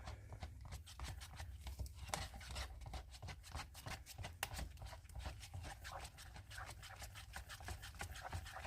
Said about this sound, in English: And I am stirring it a lot faster than what I normally would.